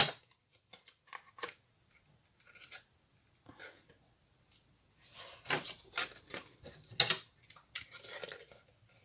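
Craft kit pieces being cut with scissors, heard as sparse, soft snips and clicks spread across quiet pauses, close by and fairly faint.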